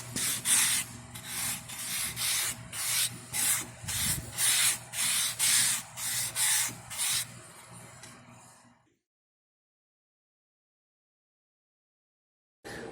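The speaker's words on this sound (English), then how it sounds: "This is a whetstone. So it has, it's a little dirty. It has a coarse and fine." An old restored knife blade is stroked on a coarse and fine whetstone, about a dozen even rasping passes in a steady rhythm, close and loud, then it stops into silence.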